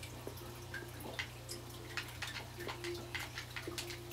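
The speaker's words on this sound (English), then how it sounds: "Why do I hear water?" Water drips in a Minecraft cave on Xbox 360: faint, scattered single drops and soft splashes land irregularly over a low steady hum, quiet and somewhat distant.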